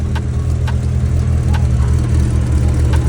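Porsche engine idling after a cold start, a steady low rumble close to the microphone with faint periodic ticks above it and no talking.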